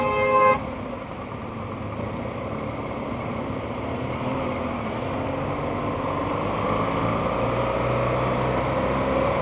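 Heavy road traffic in Moscow rumbles on steadily, close and continuous, with a short car horn blast right at the start and engines droning beneath throughout.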